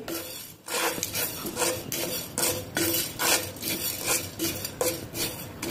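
Cumin, coriander seeds and black peppercorns are dry-roasted in a pan over low heat, stirred with steady, repeated rasping scrapes in a regular rhythm, close and clear with no talking.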